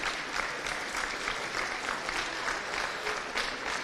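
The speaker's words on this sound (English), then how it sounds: "So to the supporters who got behind it, give yourselves a round of applause." Supporters in the stands at the All-Ireland U23 Championship Final between Cork and Galway applaud together, a steady, dense wash of clapping that holds evenly throughout at moderate distance, with no voices standing out.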